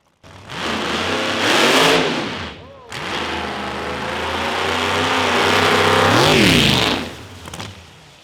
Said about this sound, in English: We tried, spin the tires.